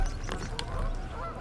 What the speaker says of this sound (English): I'm at peace with the geese out here flying, doing their thing